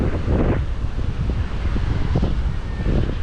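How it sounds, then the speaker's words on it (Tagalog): Strong wind buffets the microphone in a constant roar, with surf-like rushes swelling and fading throughout. "Grabe, lakas ng hangin."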